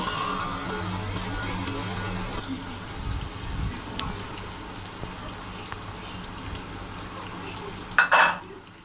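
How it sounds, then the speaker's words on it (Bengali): Chopped onions sizzle in hot oil in a pan, stirred with a spoon, a soft steady frying hiss with occasional scraping, close and fairly quiet, ending with a brief louder clatter. "পেঁয়াজ কুচিগুলো হালকা বাদামি না হওয়া পর্যন্ত এভাবে নাড়তে থাকব"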